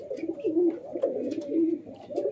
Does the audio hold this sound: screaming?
no